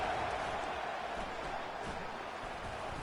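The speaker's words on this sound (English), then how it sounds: "Listen to this crowd just shaking the girders of this place" A packed football stadium crowd roars in a steady, loud wash of noise that fills the space without a break.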